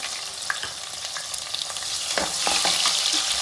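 Onions frying in a pan for vangi bath, a steady bright sizzle with occasional stirring scrapes, growing slightly louder and denser toward the end, no voices.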